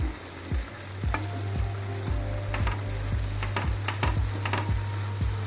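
Roasted vermicelli and cooked vegetables are stirred together in a pan over a steady sizzle, a spatula scraping and knocking in a loose repeated rhythm, close and clear, with a low hum underneath.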